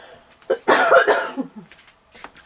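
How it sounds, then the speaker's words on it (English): A person with a lingering illness gives a short fit of coughing, two or three harsh bursts close to the mic, followed by quieter throaty sounds and faint room noise. "I've been stuck with this cough and everything for a long time now"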